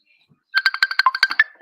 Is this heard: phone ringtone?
yes